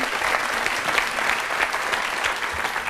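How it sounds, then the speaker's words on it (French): Loud studio audience applause for a tap dancer on a television show, thick continuous clapping from many people up close. "on peut applaudir très fort notre ami Victor"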